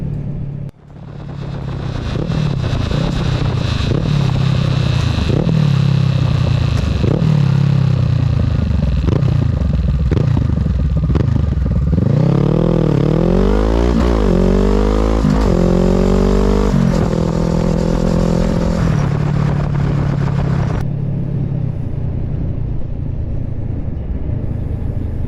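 Honda CBR500R motorcycle fitted with a Two Brothers exhaust, loud and close, throttle blips with rising and falling revs, then a sustained ride with shifting engine pitch that settles back to a steady run.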